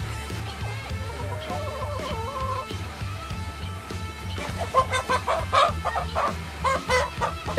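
A rooster on a rural provincial farm clucks repeatedly before slaughter, growing busier and louder toward the end over a steady low background.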